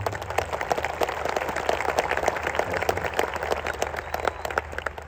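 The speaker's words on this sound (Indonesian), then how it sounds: "tepuk tangan dulu" Dense, steady applause from a large audience at an Islamic tabligh akbar sermon gathering, a continuous wash of many hands clapping for about five seconds with no break.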